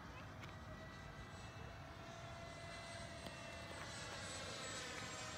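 A Freewing F-16 RC jet flies at 86% throttle on its maiden flight, a steady, fairly distant whining roar that holds constant and swells slightly toward the end.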